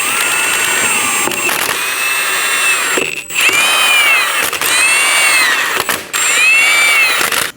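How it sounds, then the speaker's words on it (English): Power tool running in repeated bursts, a cordless impact or drill snugging the five lug nuts on a reinstalled rear wheel of a 2011-2026 Dodge Durango, with high whining tones and brief pauses between nuts. "Snug the lug nuts down."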